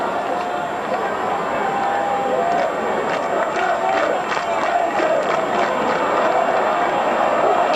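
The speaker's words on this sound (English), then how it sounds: "The crowd are going crazy inside the Odsal Stadium." Rugby league crowd at Odsal Stadium in Bradford roars continuously during a 1996 Bradford v Wigan match, a broad, distant-sounding wall of cheering and shouting with commentary-like voices underneath.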